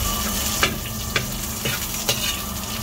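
Onion added to browned garlic frying in a pan, a steady close sizzle with about four brief, evenly spaced scrapes or clicks of the utensil, no voices.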